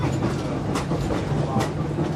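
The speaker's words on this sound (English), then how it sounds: "That's why we're on this train." A passenger train on the Alaska Railroad rumbles along the track, a steady low roar from inside the car with faint periodic clacks of the wheels.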